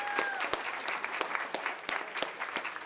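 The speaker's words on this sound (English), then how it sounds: "big, big round of applause" Applause from an audience at a city commission meeting, a dense steady patter of many hands clapping in a room, with a few sharper individual claps standing out.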